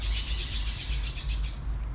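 Birds chirp outdoors in a dense, busy chorus of high twittering calls over a low steady background rumble, continuous and moderately close.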